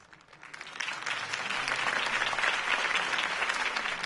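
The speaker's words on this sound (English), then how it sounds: "could have heard that applause" Crowd applause from an in-game political rally audience in Batman: The Telltale Series, swelling from quiet to a sustained, dense wash of clapping that holds steady for several seconds.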